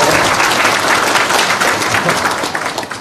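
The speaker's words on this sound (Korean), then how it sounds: "박수 한번 칩시다" A breakfast meeting audience at a chamber of commerce gathering applauds, a dense, loud, steady wash of many hands clapping that fills the whole moment and tapers slightly at the end.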